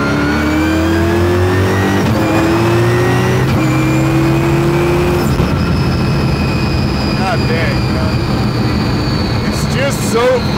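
Twin-turbo, supercharged 1003 whp Ford Mustang accelerating hard, its engine climbing loudly through the revs with a turbo whine, dropping at a gear change and pulling again, close inside the car.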